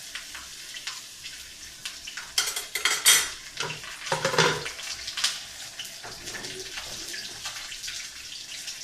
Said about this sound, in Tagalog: ipiprito ko na yung isda